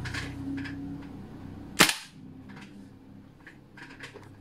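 An AK-74 airsoft gas blowback rifle with a real wood stock fires a single sharp, loud crack, close by, that quickly fades into a low background hum.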